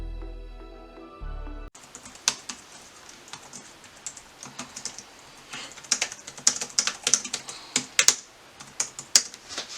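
Someone types on a Logitech K380 Bluetooth keyboard, a quiet minimalist model, producing rapid soft key clicks in irregular bursts, close up and alone, after a brief musical tone at the start.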